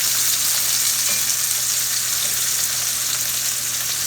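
Sausage searing in hot oil in a pan for stovetop mac and cheese, a loud continuous sizzle with a steady crackling hiss, close and unbroken, with no talking.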